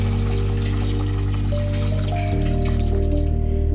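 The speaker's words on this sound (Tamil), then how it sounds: "இந்த கறி வேகிறதுக்கு தேவையான அளவு தண்ணி" Water is poured into Kerala-style beef curry in a cooker, giving a steady continuous pour that shifts in tone partway through, heard close and loud over a constant low hum.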